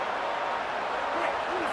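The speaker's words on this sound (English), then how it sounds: "Listen to the crowd energy here in the early going." Dense, continuous roar of a large stadium crowd cheering in an EA Sports College Football video game, Alabama vs Maryland, steady throughout with no pauses.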